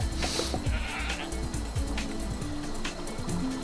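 A goat bleats in the video game Guacamelee, several short wavering cries repeating over a busy layer of game music and effects.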